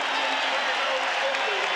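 Basketball arena crowd roaring during a 1992 Celtics–Trail Blazers game as Boston gets off to a fast start, a steady dense wash of cheering and noise with no pauses across the moment.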